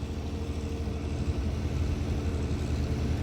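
A tractor works in a rain-flooded field, its engine giving a steady low, heavy drone that stays loud and continuous throughout, with no clear surges and no talk.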